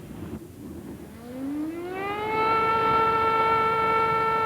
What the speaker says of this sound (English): all day long in the town, the air raid siren sent people running for shelters